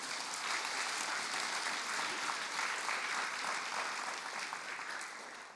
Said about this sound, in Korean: 힘찬 박수 한번 보내주시기 바랍니다